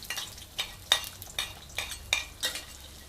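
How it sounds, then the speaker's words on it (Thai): Garlic and shallots fry in hot pork lard in a wok: a quiet background sizzle broken by about six soft, evenly spaced scraping strokes of stirring. "น้ำมันพอร้อนค่ะ ใส่กระเทียม กับหอมแดงลงไปนะคะ"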